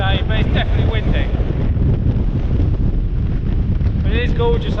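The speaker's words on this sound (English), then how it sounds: "It's not raining today, but it's definitely windy." Heavy wind buffets the microphone in a constant low roar, with brief snatches of voice breaking through near the start and end.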